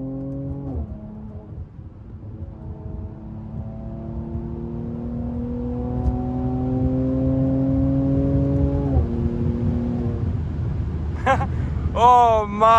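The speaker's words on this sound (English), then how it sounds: "Let's unleash all 390 horsepower of this AMG!" A 2019 Mercedes C43 AMG with 390 horsepower accelerates hard, its engine note climbing steadily through several upshifts with brief dips between gears, loud and sustained from inside the car, ending in a burst of higher whine.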